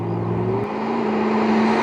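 McLaren 12C engine in sport mode accelerating, a steady close drone whose pitch climbs smoothly across the brief span, heard alone.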